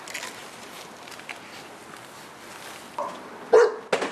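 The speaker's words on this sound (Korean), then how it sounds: "모두가 떠난 마을에서 들리는 개 짖는 소리" Stray dog barking in an abandoned village near Bukhansan, with redevelopment work nearby; a couple of short, fairly distant barks ring out late over faint outdoor ambience.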